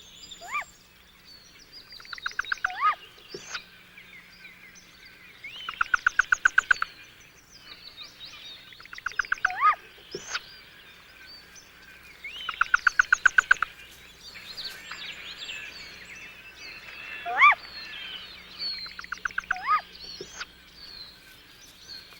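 Baby owlets calling in the nest while being fed by their mother, repeated rapid trilling bursts and chirps at intervals, close and clear against a quiet background.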